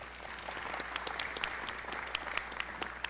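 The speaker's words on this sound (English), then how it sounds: "Let's give Sarah a big round of applause." An audience gives a round of applause at a corporate wellness event, steady dense clapping with scattered sharper claps, moderately loud and continuous for a few seconds.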